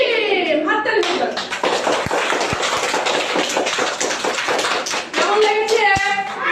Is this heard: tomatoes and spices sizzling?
no